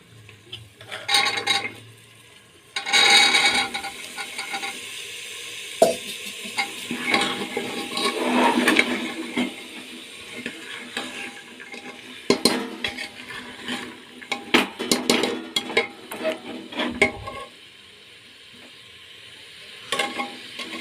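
Soaked chickpeas and potatoes being roasted in a pan, with a spoon scraping and clinking against the metal in irregular bursts over a light sizzle. The stirring stays close and moderately loud, with a few quieter gaps.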